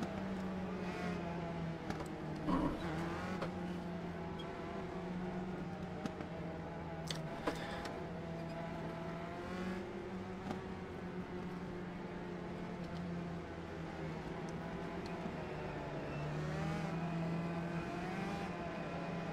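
Race car engines in the iRacing video game as USF2000 cars trail a pace car at Oulton Park: a steady, moderate engine drone with faint shifting revs, holding level throughout, with a few small clicks.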